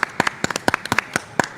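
Scattered, uneven hand claps from a small audience at a camp meeting pavilion, about a dozen sharp claps close by in under two seconds.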